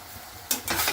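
A spoon briefly stirs grated coconut into a broad bean vegetable curry in a hot pan, giving two short bursts of scraping and soft sizzling that end abruptly. No talk.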